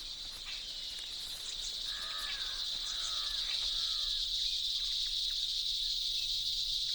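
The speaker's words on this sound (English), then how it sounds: "The cicada's love song is the loudest noise in the insect world." A loud, steady, high-pitched cicada drone in an Indian tiger jungle runs unbroken throughout, with a few faint chirps briefly rising over it.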